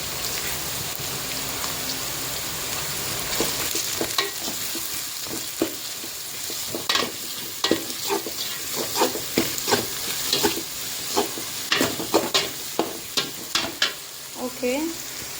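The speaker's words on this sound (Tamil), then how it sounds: "இப்போ வந்து ஆனியன் வந்து கொஞ்சமாக வதங்கியிருக்கு, இன்னும் கொஞ்சம் வதங்கட்டும்" Onions sautéing with salt in a pan for fish curry, a steady broadband sizzle running throughout with frequent sharp stirring scrapes and clicks that grow denser toward the end, close and fairly loud.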